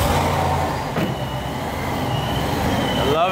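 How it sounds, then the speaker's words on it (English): A ProCharger supercharger blower on a Mercedes van engine runs steadily and close, a continuous whirring drone with a low rumble beneath, holding even throughout with no talk. "blower's making blowery noises"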